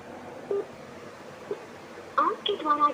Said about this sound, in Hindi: फिर लगा रहा हूँ सामीन, देखें